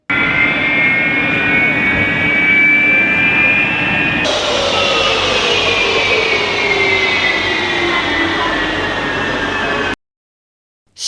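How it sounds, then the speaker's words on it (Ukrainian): An airplane passes overhead, a loud continuous engine roar with a falling pitch as it flies by, lasting about ten seconds and then cutting to silence. "Та це ж пролетів літак. Літак літає."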